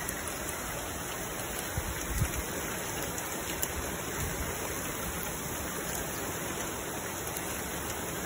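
Steady heavy water pouring down outdoors, a dense, even hiss of falling drops that stays loud and unbroken throughout with no voices.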